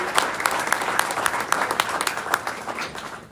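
Audience applause at a college athletics awards event, steady crowd clapping with sharp individual claps throughout, moderately loud and close, with no talk over it.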